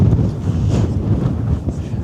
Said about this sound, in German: Es sind ja nur Böen, nur kleine Böen.